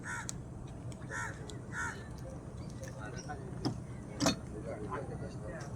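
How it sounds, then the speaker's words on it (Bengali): Crows caw on the bank of the Haldi river, several short harsh calls near the start and another later, over a steady rumbling outdoor background. "কাকগুলো নদীতে ভেসে যাওয়া আবর্জনাগুলো তারা খাচ্ছে।"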